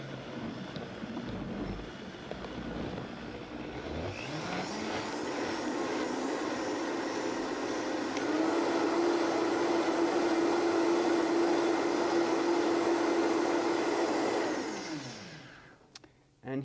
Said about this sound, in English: So we're just going to turn on our blender, starting on the low speed,